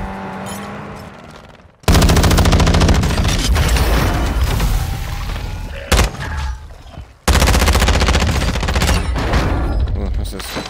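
Gunfire in the Warzone 2 video game, with bursts of rapid automatic fire and heavy shots that start abruptly, loud and close, broken by short gaps. A voice speaks in between.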